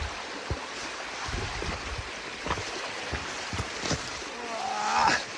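A creek flows near a mossy wilderness camp spot, a steady broadband wash of running water close by, with faint knocks and rustles and a brief rising tone near the end.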